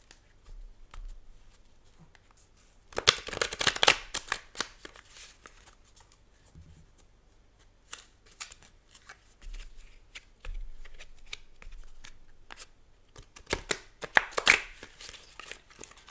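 Tarot cards are shuffled in two brisk bursts of riffling and slapping, separated by quieter handling of the deck and faint tapping between them.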